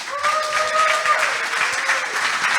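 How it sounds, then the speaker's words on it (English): Audience applause at an investment conference, steady dense clapping from a crowd at moderate distance, with a brief voice and tonal sound near the start. "a round of applause."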